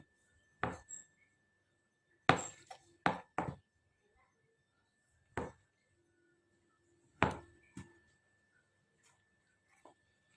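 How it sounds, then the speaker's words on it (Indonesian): Knife chopping tempeh on a board, about eight crisp separate cuts spaced irregularly and heard up close in an otherwise quiet kitchen. "tempenya akan saya potong seperti ini saja"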